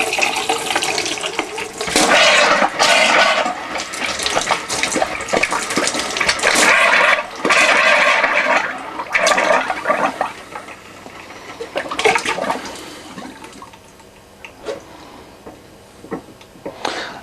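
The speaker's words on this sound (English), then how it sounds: "you'll get the water and then a large spit of air" A tap being drained by compressed air on a static park home during winterising, spitting bursts of water and air in loud irregular surges that sputter, pause and fade toward the end.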